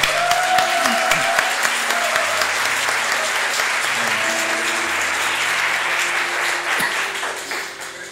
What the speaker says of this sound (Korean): 또 그걸 기대하면서 다시 한번 하나님께 박수.